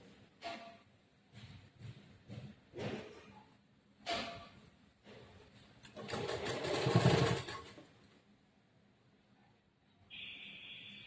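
A sewing machine stitches a princess-cut blouse in several short bursts, then runs one longer, louder stretch of steady whirring before stopping, with a faint high tone near the end.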